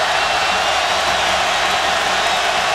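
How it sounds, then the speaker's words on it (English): Roaring stadium crowd at a South Carolina versus Georgia college football game in 2011, a loud, steady wall of hiss-like noise with no break. "Battling incredible crowd noise here."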